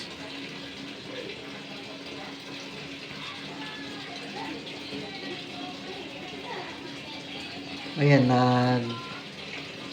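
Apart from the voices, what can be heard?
Panasonic washing machine filling with water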